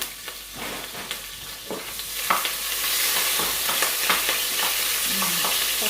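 Fried rice is stirred with butter in a pan, with a steady sizzle under repeated scraping and clinking strokes of the utensil, close and continuous throughout.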